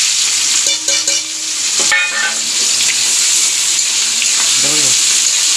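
Chopped onion sizzles and fries in a pan alongside bay leaf, a steady hissing crackle close up with brief clinks and stirring scrapes over it.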